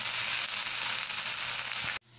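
Okra sautéing in hot oil in a pan gives a steady, loud, close sizzle for about two seconds, then it cuts off abruptly and returns quieter.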